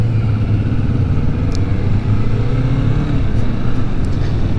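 2020 Kawasaki Vulcan S motorcycle riding: a steady, close engine drone with low rumbling tones and wind noise, holding a fairly constant loud level throughout without speech.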